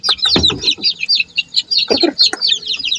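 Breeding hens cluck in short, repeated bursts close by, with a few soft knocks and shuffles between the calls.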